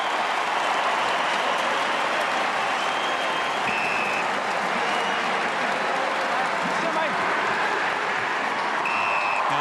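Australian football crowd at a St Kilda versus Fremantle match applauding a player's 200th game, a continuous, loud wash of clapping and cheering that holds steady from start to finish.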